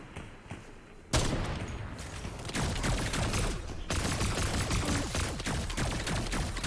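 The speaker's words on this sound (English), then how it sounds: "I'm getting sniped from over there too." Rapid sniper and automatic gunfire crackles in an online shooter game during a community night match, dense overlapping volleys starting abruptly and continuing loud and sustained, with no talk.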